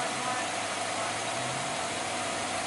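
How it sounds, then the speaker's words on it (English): A 2018 Buick Regal TourX Essence with all-wheel drive and a 2-liter four-cylinder engine idles with a steady, even hum that stays constant throughout and has no revving. "2-liter four-cylinder engine"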